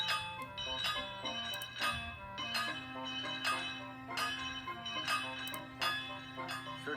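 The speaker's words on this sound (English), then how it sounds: "And I will ring my bell as loudly as I can." A small tank engine's bell rings loudly and repeatedly in a steady rhythm, bright metallic strikes each followed by a ringing decay, with clanking and a low hum beneath.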